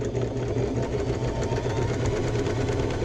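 Sewing machine stitching along the edge of a fabric piece for a handbag, its motor whirring steadily and loudly close by with no talk over it.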